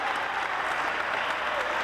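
Audience applause at an opera company's opening reception, a dense, loud wash of clapping filling the whole short stretch without a break.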